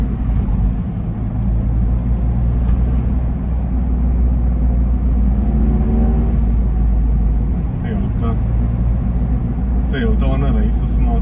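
A Smart Fortwo car driving with a constant low engine and road rumble, its pitch shifting slightly as it drops a gear, while people talk over it inside the cabin.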